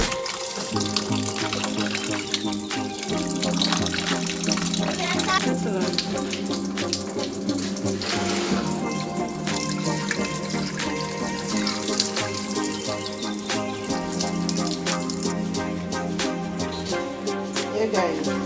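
A tap runs steadily into a sink while pigtail is washed under it, giving a loud, continuous splashing rush with water breaking over the meat throughout.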